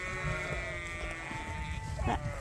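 Sheep bleat repeatedly while being herded out toward pasture on a farm, several calls overlapping at close range over a steady outdoor background, with a louder bleat near the end.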